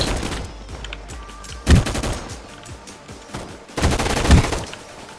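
Rapid gunfire from a cheap gun rattles in a first-person shooter game, with two loud bursts of shots standing out over a steady background of in-game battle noise.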